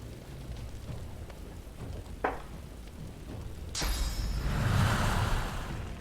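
Steady rain falls in a video game, a dense, even patter that fills the background, with a swish partway through before the rain grows slightly heavier and fuller.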